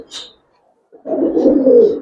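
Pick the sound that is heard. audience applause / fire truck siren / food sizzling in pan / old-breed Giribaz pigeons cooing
old-breed Giribaz pigeons cooing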